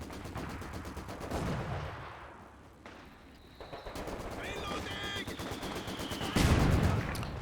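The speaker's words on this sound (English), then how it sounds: "It's a big mortar shell as well." A big mortar shell bursts in a Company of Heroes 2 battle, a heavy boom near the end over scattered gunfire and battlefield noise, with someone talking.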